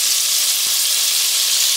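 Butter melting in a pan for green spaghetti gives a loud, steady, close sizzle with a constant hiss throughout and no voices.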